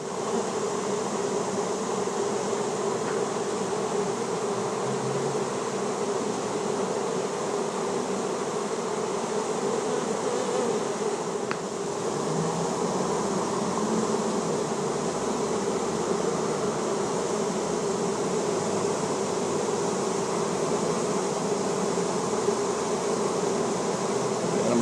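A large honey bee swarm hums steadily and densely up close as the bees march into a hive box after clustering on a brick column, the buzzing continuous and even for the whole stretch with no talking.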